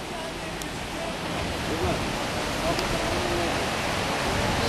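Steady rushing and gurgling of flowing water beside a road near a hot spring, a continuous broadband wash that swells slightly, with a faint voice in the background.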